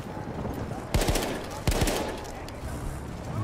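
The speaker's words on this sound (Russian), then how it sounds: "там опять кто-то стреляет" Gunfire in the Battlefield 1 multiplayer game: two sharp, loud shots about a second apart, each with a short ringing tail, over a steady background of battle ambience.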